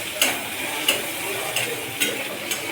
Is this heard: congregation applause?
no